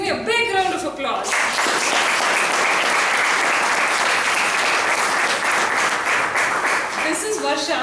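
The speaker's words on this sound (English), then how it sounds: "Can you all please give me a big round of applause?" A meeting audience gives a full round of applause, a dense, loud wash of many hands clapping that swells in and fades out, with brief voices at the edges.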